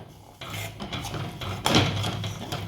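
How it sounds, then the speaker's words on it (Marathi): Sugar stirred in a pan as it caramelizes for an eggless Christmas cake, a spoon scraping and rubbing against the pan in close, uneven strokes, with one louder scrape partway through. "सतत हे करत ढवळत आपल्याला छान कॅरेमेलाइज करून घ्यायची आहे ही साखर."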